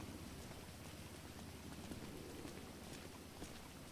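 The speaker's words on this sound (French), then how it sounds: "Il se met à pleuvoir, les gens s'en vont." Rain falling in the video game GTA RP, a steady, quiet patter of drops on surfaces with faint scattered ticks throughout and no voices.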